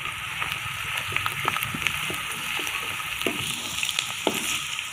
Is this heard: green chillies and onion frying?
yes